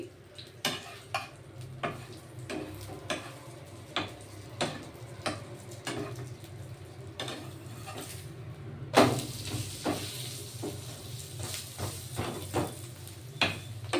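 Butter naan frying in a pan with a spoonful of butter, a steady soft sizzle beneath regular light taps and scrapes of a spoon against the pan, growing brighter and hissier partway through.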